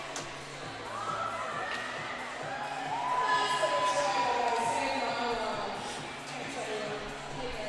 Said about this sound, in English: As we see the wave going around Cockburn Ice Arena as the crowd gets into it